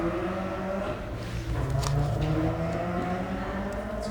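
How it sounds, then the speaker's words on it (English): A loud car passes outside, a steady engine roar with rising revs that swells briefly near the middle and stays prominent throughout the short stretch. "That was a loud car."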